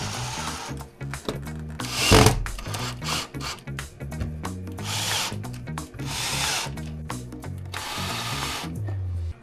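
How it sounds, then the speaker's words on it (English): A power drill drives screws into the entrance trim of a motorhome, giving several close, loud whirring bursts that rise and stop in quick succession, with brief gaps between them. "Okay, we'll just put our screws in."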